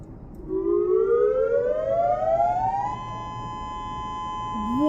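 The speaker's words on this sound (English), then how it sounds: "When you hear the siren tone, you should seek shelter indoors and tune to local media for more information." Outdoor tornado warning siren during a test, a loud rising wail that climbs steadily then holds a steady high tone, heard close by with no talking.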